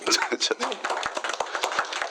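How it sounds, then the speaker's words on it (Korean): An audience at a city council committee meeting claps in a brief, scattered round of applause, with sharp hand claps at an uneven pace mixed with a voice speaking over them. "우리 박수 한번"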